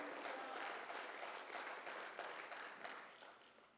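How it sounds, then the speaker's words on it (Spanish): A church congregation applauds together, a dense, steady patter of many hands that stays fairly even and then thins slightly toward the end, heard at a moderate distance with no speech over it. "Vamos, aplauda al Señor"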